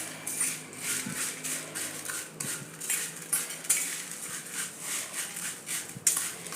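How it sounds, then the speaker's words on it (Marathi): A metal spoon scrapes and clatters steadily against a pan while hot fried flattened-rice chivda is stirred and tossed, with repeated rhythmic scraping strokes and occasional sharper knocks, close up and with no talk. "गरम असतानाच हा हलवायचा असा व्यवस्थित"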